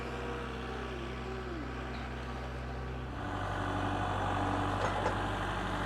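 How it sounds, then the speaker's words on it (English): A farm tractor engine idles and drones steadily at a distance, its low mechanical hum growing somewhat louder and rougher partway through, with no voices. "Here comes Mama with the tractor."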